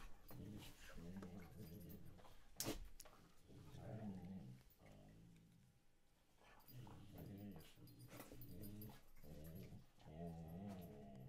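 Dogs growling and snarling in rough, rhythmic bursts as they play-fight up close, with brief pauses and a sharp yelp or clack midway.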